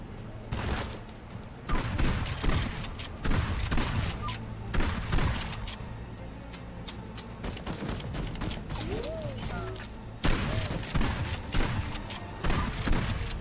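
Shotgun fire bursts in the arcade shooter Headcount, a rapid string of sharp blasts and mechanical racking in uneven clusters, fairly close and loud over constant game background noise.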